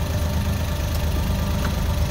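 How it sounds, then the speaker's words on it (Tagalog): A Suzuki DA63 truck's K6A engine keeps idling with its wiring harness disconnected, a steady close mechanical hum with a faint rhythmic ticking. "Kahit na natanggal na ay patuloy pa rin umaandar ang makina."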